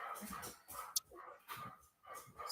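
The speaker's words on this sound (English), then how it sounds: "I have learned that my dogs are very noisy." Several pet dogs bark indoors in short, faint bursts spread across a few seconds, somewhat distant and low in level.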